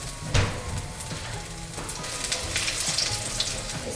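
Cumin seeds and two or three dried red chillies sizzle loudly in hot oil in a pan, a dense continuous crackling fry with a sharp pop as the chillies go in.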